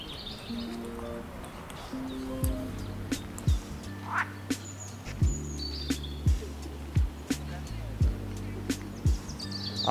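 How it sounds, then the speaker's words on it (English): Ducks quack repeatedly outdoors in Oslo, Norway, a series of short nasal calls close by, with faint birdsong and a low ambient hum of the city beneath them. "Beautiful ducks."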